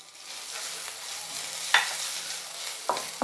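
Cumin and ginger fry in a hot pan with a continuous soft sizzle, punctuated by a few sharp clinks and scrapes of a utensil stirring against the pan.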